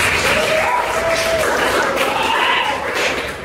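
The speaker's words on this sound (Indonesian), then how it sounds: "Tepuk tangan semuanya." An audience applauds at a university talk, producing a dense, loud wash of clapping that carries through the whole moment and is mixed with some voices.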